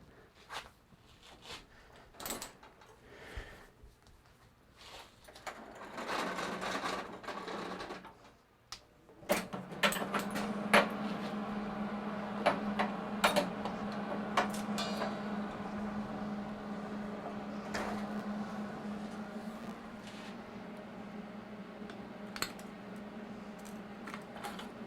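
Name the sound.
MIG welder welding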